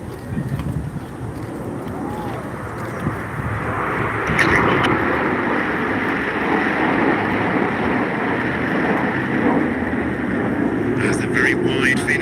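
Red Arrows display jets flying the Phoenix formation at an air show, a broad steady jet roar that swells and holds loud throughout, with an announcer talking over it.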